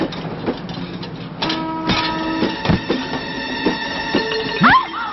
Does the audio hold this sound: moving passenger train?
yes